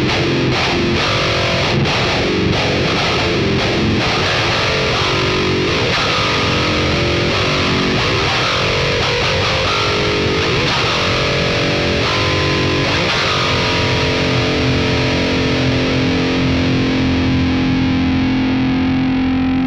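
Heavily distorted riff on a Jackson Josh Smith SL7 Soloist seven-string guitar through a Fortin Nameless amp plugin, loud and continuous with chugging palm-muted rhythms and a sustained ringing chord at the end.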